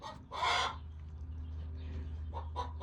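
A hen gives a short, raspy cluck, followed by softer clucking later, over a steady low hum in the background.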